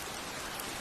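Steady rain falls at a railway station, a dense, even hiss that continues without a break through the short moment.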